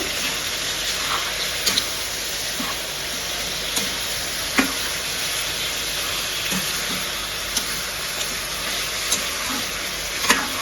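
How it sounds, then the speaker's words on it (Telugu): Ginger-garlic paste being stirred into chicken curry in a pan, a steady close sizzle with scattered scrapes and clicks of the spoon against the pan, no talking. "ఇక్కడ కొంచెం అల్లం వెల్లుల్లి పేస్ట్ వేసేయండి ఇప్పుడైతే మంచిగా కలుపుకోండి"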